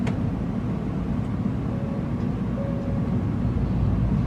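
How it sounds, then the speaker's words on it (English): A Japanese commuter train running between Yokohama and Shinagawa, heard from inside as a steady low rumble and rolling drone with faint tonal whines, no one talking. "Okay, the train has arrived in Yokohama."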